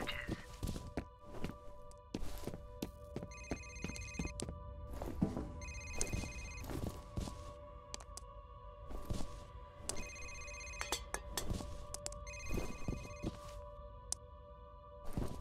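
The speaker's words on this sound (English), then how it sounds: "There's a cell phone" In the shooter game F.E.A.R., a cell phone rings in repeated electronic bursts amid footsteps and dull thuds, the tone returning every couple of seconds at moderate volume.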